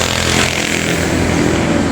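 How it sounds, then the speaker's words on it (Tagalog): Motorcycles passing on a provincial road: a loud, close, continuous buzzing engine roar with a rough, raspy drone throughout, no talking. "Mga motor tanan."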